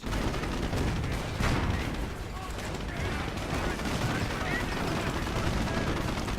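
Sustained gunfire and bursts of machine-gun fire from the real-time strategy game Company of Heroes, dense and continuous throughout at steady loudness, with a voice talking over the battle.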